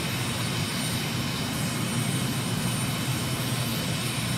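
A jet engine roars in a flight simulator game, a steady broadband rush at moderate level with the throttle short of full, no voices over it.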